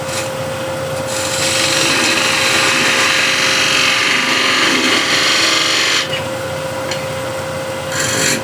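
A wood turning gouge cuts across a spinning hexagon plate on a lathe, a steady, loud, continuous rasping shear that holds for about five seconds before easing back to the quieter whir of the lathe, with no talk.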